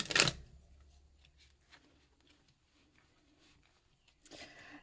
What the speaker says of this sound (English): I'm going to go ahead and talk while I shuffle your tarot cards